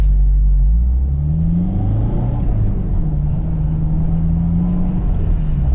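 Manual transmission car accelerating hard, its engine note dropping and climbing as it downshifts for power, a steady loud rumble with rising and falling harmonics throughout.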